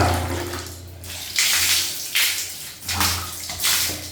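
Water splashes across bathroom tiles as the room is rinsed after lemon juice cleaning, coming in four loud, close pours with brief quieter gaps between them.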